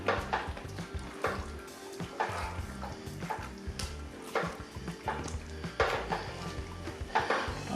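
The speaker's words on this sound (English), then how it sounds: "I'm just going to add that last to our curry. And I'll give that a stir." Lamb curry with potatoes being stirred in a pot on the stove, with repeated scraping and clatter of the spoon against the pot over a constant sizzling bubble, close and fairly loud.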